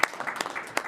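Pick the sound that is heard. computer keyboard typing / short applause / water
short applause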